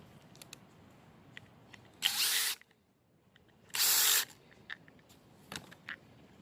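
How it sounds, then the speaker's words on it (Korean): A power drill fitted with a screwdriver bit whirs in two short bursts of about half a second each while boring holes in drip irrigation hose, loud and close against a quiet outdoor background. "드릴이 없어서 드라이버를 달고서 구멍을 내주었습니다"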